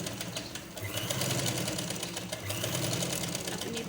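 A sewing machine stitching lace onto a dupatta corner, running in a fast, even, rhythmic chatter at close range, continuous across the clip with no speech.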